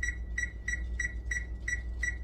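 A kitchen timer beeps in a steady series of seven short, evenly spaced electronic beeps over a low background hum, with no voices.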